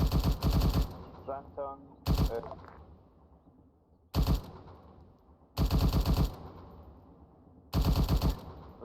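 Automatic rifle and machine-gun fire in the military shooter Arma 3, coming in loud bursts of rapid shots separated by pauses, with radio-style voices talking in between.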